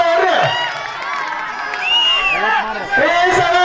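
A crowd at a village fair strongman contest, where wrestlers lift heavy stone balls, cheers and shouts loudly amid a busy outdoor din, with a man calling out over the crowd.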